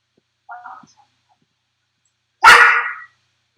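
Xyla the dog barks territorially at a maintenance visitor at home: a faint short yip first, then one loud, close bark after a pause, with silence around them.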